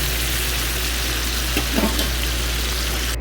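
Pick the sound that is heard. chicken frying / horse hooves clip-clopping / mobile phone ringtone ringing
chicken frying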